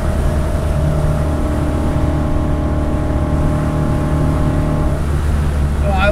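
A resto-mod BMW 2002 engine pulling hard in fourth gear, a loud steady drone with rising harmonic tones that holds for several seconds before easing off near the end.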